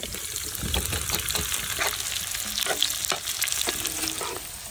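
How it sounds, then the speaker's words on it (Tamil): Sliced onions frying with garlic and curry leaves in hot oil in a home kitchen, a steady close sizzle with occasional stirring clatter and scrapes throughout, no voices. "வெங்காயத்தை இந்த மாதிரி நீட்டு வாக்கில் கட் பண்ணி சேர்த்துங்க"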